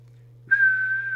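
A steady, clear whistle blown into the microphone of a Kernow Beta 1100 UK CB radio during a transmit adjustment test, sustained and even over a low background hum.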